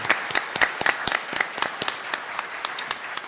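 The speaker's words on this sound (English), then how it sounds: "I want us to join in a round of applause to thank the foundation," Audience applause in a room after a talk on local journalism, a scattered round of claps with distinct sharp hits standing out over a thinner patter, steady and moderately near throughout.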